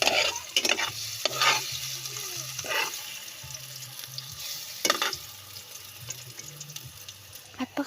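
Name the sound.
stirring banana slices frying in oil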